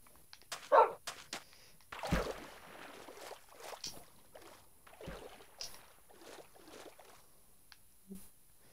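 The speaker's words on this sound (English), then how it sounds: "Oh, that was a dog. I got spooked." A dog barking in Minecraft, a few short yips and barks scattered among soft clicks and splashy game noises, fairly faint and intermittent.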